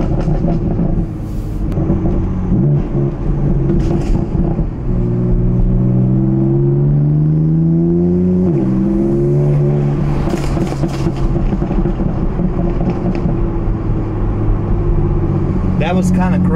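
A tuned BMW M3 engine revs and burbles in a neighborhood street, a loud continuous near drone with rising and falling pitch sweeps and crackling pops throughout.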